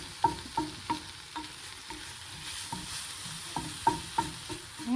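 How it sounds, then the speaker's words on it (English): Onion and garlic fry in an enamel-coated cast iron pan, a soft steady sizzle broken by repeated faint scraping stirs at an irregular rhythm. "so the onion and garlic's been cooking down"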